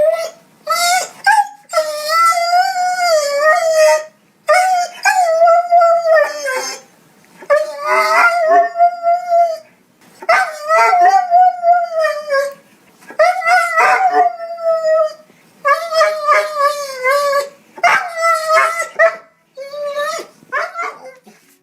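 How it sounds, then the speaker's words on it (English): Several dogs cry and howl in a sound-effect sequence: long, wavering, high-pitched howls and whimpers come in repeated bursts with short gaps between them, loud and close, with no talk. "dog crying funny"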